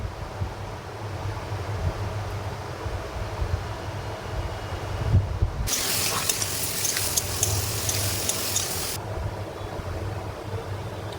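Lentil paste made from hand-mashed dal drops into a pan of reddish-fried onions, setting off a loud, steady broadband sizzle that swells midway and runs for a few seconds over a low stove rumble.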